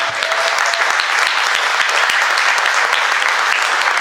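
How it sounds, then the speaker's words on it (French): An audience applauds the Orchestre Variation at a concert in La Grand-Combe, a dense, loud, steady wash of many hands clapping with no talk. "Je voudrais qu'on les applaudisse parce qu'ils représentent la ville"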